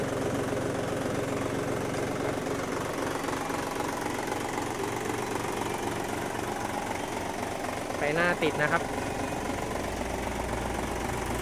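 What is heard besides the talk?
tractor engine idling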